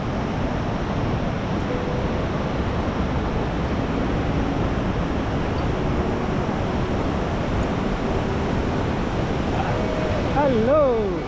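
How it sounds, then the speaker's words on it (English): A big waterfall and rushing river below a bridge on the Annapurna trek, a dense continuous roar of water that fills the scene steadily, with wind buffeting the microphone and faint sounds near the end. "It's a waterfall. A big waterfall down there. We're crossing the river."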